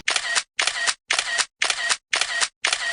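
A camera shutter clicks six times at an even, quick pace during a small photo shoot at a Ganesh festival gathering, each crisp snap close and clear with short silences between.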